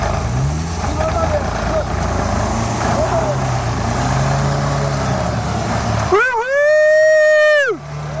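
A tractor's engine rumbles steadily while people talk nearby during a snowy off-road recovery of a stuck Suzuki in Kastamonu, then a loud, strained engine whine rises, holds and drops off near the end.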